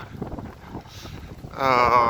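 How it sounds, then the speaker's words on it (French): Strong wind blows outdoors, a steady broadband rush that buffets the microphone throughout and grows louder near the end, mixed with people talking. "Il y a beaucoup de vent, là."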